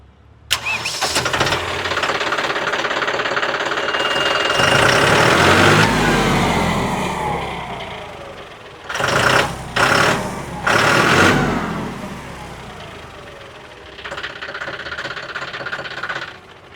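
A John Deere 5210 4WD tractor with about 400 hours cranks loudly, catches and settles into a steady diesel idle, then revs in several short bursts before quieting. The engine sounds close, with almost no talk.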